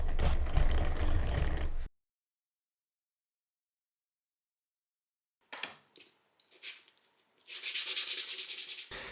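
Small wooden parts for a wooden automaton are rubbed flat on 240 grade sandpaper, with a short burst of scratchy sanding, a silent gap, then scattered strokes building into steady, close back-and-forth abrasion.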